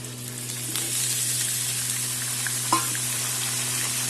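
Green chilies and raw tomatoes go into a pan of fried potatoes, setting off a steady loud sizzle and crackle of frying with a single metallic clink of a utensil partway through.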